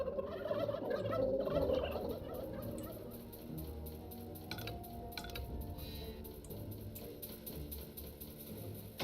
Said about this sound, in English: So many turkeys.